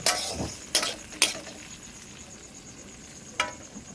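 Bori lentil dumplings fry in hot oil with a soft, steady sizzle, punctuated by a few sharp clinks of a utensil against the pan, close and quiet, with no talking.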